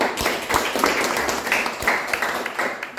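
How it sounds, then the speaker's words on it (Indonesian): A classroom of students claps for a classmate, a short burst of scattered, fairly close hand claps. "beri tepuk tangan untuk Henry"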